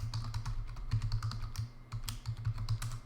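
A password is typed on a computer keyboard in a rapid, steady patter of soft key clicks at close range, with no voices.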